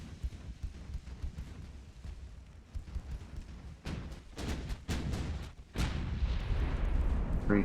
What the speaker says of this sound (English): Three turrets available to shoot at the light cruiser.